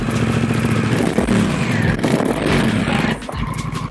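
A 2021 Honda CMX 1100 Rebel motorcycle engine running close by, a loud, thick, rumbling idle with rhythmic throbbing pulses and a few blips of throttle, dropping slightly near the end.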